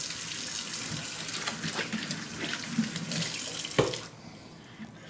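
Hands are washed under a running kitchen tap before cooking, with a steady close splash of water that cuts off near the end.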